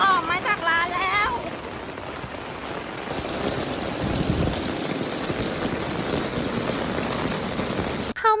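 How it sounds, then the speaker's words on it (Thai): Steady rain falls on a street in Seoul, with a dense close hiss of drops pattering on surfaces and a faint high hum partway through; a voice speaks briefly at the start and end. "เข้ามาหลบฝนที่นี่"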